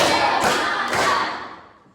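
A pair of strong group hand claps lands roughly half a second apart in a classroom, with a short reverberant tail that dies away afterward.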